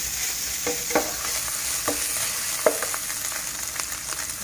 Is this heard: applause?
no